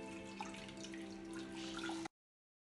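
Water splashes and trickles close by as a flannel rinses a man's face during a skincare routine, a steady wet wash for about two seconds that then cuts off abruptly to silence.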